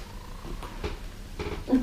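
Soft, close purring with a steady low rumble, pulsing gently in short rhythmic waves, heard on its own without talk.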